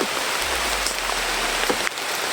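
Steady rain falls outdoors, a dense even hiss of drops on surfaces with a low rumble underneath, heard alone without voices.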